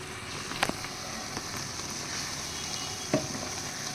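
Kundri with turmeric sizzles and fries in a pan over high flame, a steady broad hiss broken by a few sharp scraping stirs.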